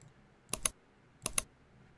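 Typing on a computer keyboard: two quick bursts of paired key clicks, close and crisp, separated by a short pause in an otherwise quiet room.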